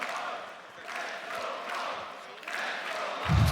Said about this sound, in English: Cheering on Torji, cheering on MOUZ.